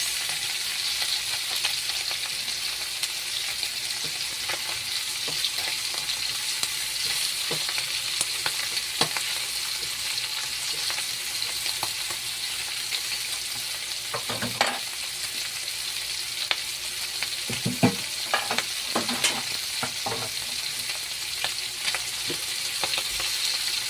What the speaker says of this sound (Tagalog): Lutuin pa po sa ating saglit ng sibuyas.